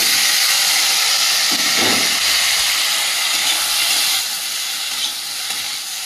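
Ginger and boiled taro frying in hot oil in a home kitchen give off a loud, steady sizzling hiss throughout, with a brief stirring scrape near the middle.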